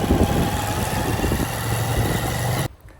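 A Honda XR150L motorcycle engine runs steadily and fairly loud with a low droning hum for most of the moment, then cuts off abruptly near the end, leaving quiet behind.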